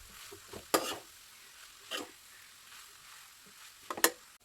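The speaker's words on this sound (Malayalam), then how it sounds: "ഇതിന് നന്നായിട്ട് ഇളക്കാം." Cooked noodles being stirred in a hot pan at home, a faint sizzle underneath with a few sharp scraping strokes of the utensil against the pan, spaced irregularly.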